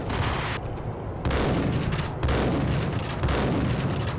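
Sustained heavy gunfire in Max Payne, a dense, loud, continuous fusillade of shots with booming impacts and no talking.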